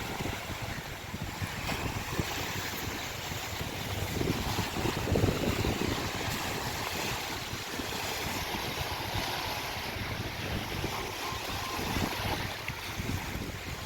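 Boats moored at Thondi beach, with a low motor hum under steady surf and wind noise, continuous and moderately loud across the whole stretch without any voices.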